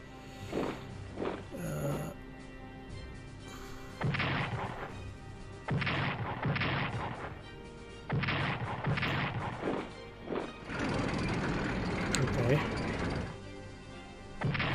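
Artillery fires in Strategic Command: World at War, a series of heavy impact bursts and crashes spread over several seconds, loud and close, with a player talking over and between them.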